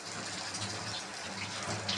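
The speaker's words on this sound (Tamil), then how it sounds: "இந்த கனவா மீன் வேகிறதுக்கு கொஞ்சமாக தண்ணி சேர்த்துக்கலாம்." Water is poured into squid cooking in a pan for a Tamil-style squid thokku, making a faint, steady, hissing wash of liquid that runs alone throughout.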